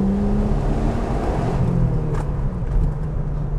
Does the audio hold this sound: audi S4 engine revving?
yes